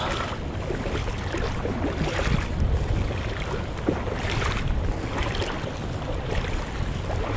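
Sea waves at Libaong on the shore, a steady broadband wash of water and surf rolling continuously with gentle swells in loudness and no voices.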